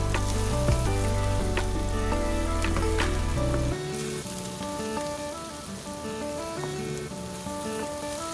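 Chopped tomatoes sizzle and hiss in frying kofta gravy as a spoon stirs them in, a steady close crackle running under faint background music.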